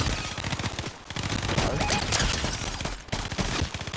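Rapid automatic gunfire in a Fortnite match, a dense, loud stream of close shots fired in bursts with brief pauses, nearly continuous throughout.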